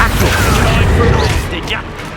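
A spell blast from Hogwarts Legacy, the Expulsion curse, bursts with a loud, dense crash that rolls over busy combat noise, with a voice calling over the action.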